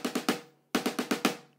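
Played with double strokes on a drum, a five-stroke roll sounds as two quick bursts, three strokes then a pause then five, each hit sharp, even and close-miked.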